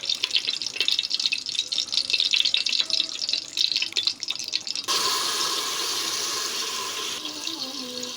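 Cooked pasta is rinsed under a cold running kitchen tap, first a splashing, uneven stream of water hitting the pasta, then a smoother steady flow of running water close by.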